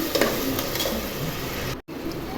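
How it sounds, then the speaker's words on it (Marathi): Tomatoes sautéing in oil in a pan give a steady, close sizzle with occasional stirring scrapes and a brief cutoff near the end, no one speaking. "टोमॅटोचं तेल सुटलं अशा पद्धतीने परतून घ्यायचं।"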